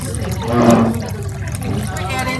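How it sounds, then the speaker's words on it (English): Water pours into a pan of onions and tomato paste, a short gurgling splash that swells in the middle and then fades back into kitchen background, with voices talking around it. "Add a little bit of water to the onions and the tomato paste."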